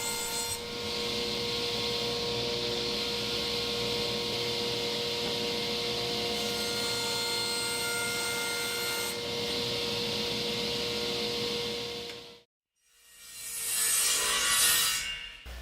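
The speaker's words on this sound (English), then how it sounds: "Here I am cutting up a 2x4 piece of white dry erase board." A 2x4 piece of white dry erase board is cut to make a light box backing, producing a steady, loud rasping saw noise sustained for about twelve seconds, a brief pause, then another short burst of cutting.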